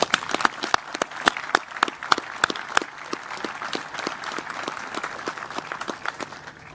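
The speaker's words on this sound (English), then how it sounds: "Please join me in another round of applause for the Waldhausers" A crowd at a 2019 AFRICOM military change of command ceremony applauds steadily for several seconds, with dense clapping that fades slightly toward the end.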